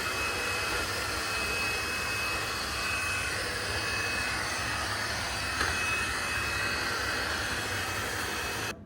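A LuBlueLu lidar robot vacuum runs steadily with a constant whirring motor and suction hiss at moderate level, near and unbroken, cutting off at the end.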